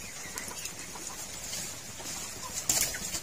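Chickens in a backyard coop cluck softly and intermittently at a distance, faint over a steady outdoor background hiss.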